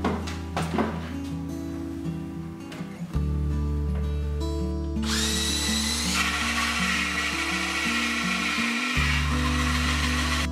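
A power drill bores into a tin can being repurposed for decor, giving a loud steady whine with grinding changes in pitch that hold throughout, with no talking.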